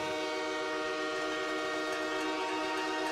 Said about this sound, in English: Little train horn action for y'all.